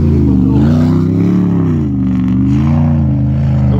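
Loud Jeep Cherokee engine close by, its pitch rising and falling in slow waves as it revs up and down.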